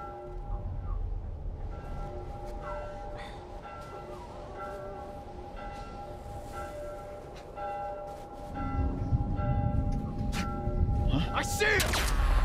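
Bells in The Last of Us Part I ring as sustained tones at a moderate distance, repeating and lingering, joined later by a louder rumbling swell and some player noise.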